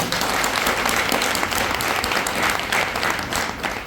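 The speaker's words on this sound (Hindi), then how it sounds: "एक बार दिल की गहराइयों से उनके सम्मान में तालियां बजाइए जिनको आप अपने घरों पर छोड़ करके आए हैं।" An audience at a corporate motivational speech event claps together in warm, steady applause, a dense wash of many hands that holds evenly for a few seconds.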